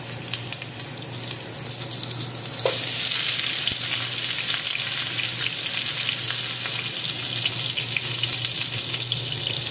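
Ingredients drop into hot cooking oil, setting off a loud, steady sizzle and crackle that jumps in intensity a few seconds in and keeps frying without letup, with faint stirring and no voices.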